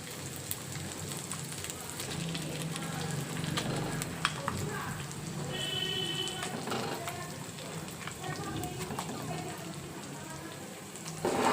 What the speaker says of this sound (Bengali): এবার এটাকে ভালো করে তেলের মধ্যে পুরটাকে নাড়াতে থাকবো।